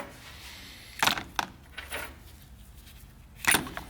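Greasy engine rocker arms clatter into a container of degreaser: a sharp metallic clunk, a second lighter knock, then another loud clack a couple of seconds later, close by in a quiet room.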